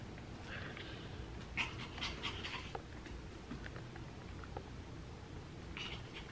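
A dog pants and gives soft whimpering whines, close by, over a low steady background rumble.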